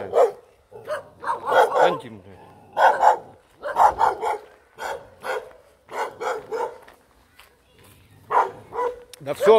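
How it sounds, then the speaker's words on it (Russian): Several dogs bark in repeated bursts at fairly close range in a Thai village near Pattaya, some yips mixed in, with short quiet gaps between volleys. "Тут еще и собачки."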